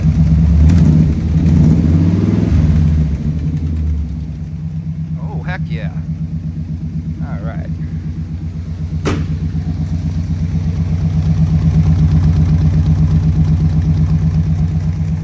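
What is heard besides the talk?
old pickup truck engine revving and idling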